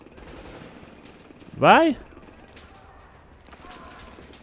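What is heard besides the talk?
gunfire in video game The Division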